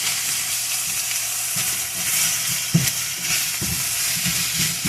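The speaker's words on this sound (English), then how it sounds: "I'm going to give this a stir" Onions and garlic fry in a pan with a steady close sizzle, broken by several soft scraping knocks as a spoon stirs them through over about five seconds.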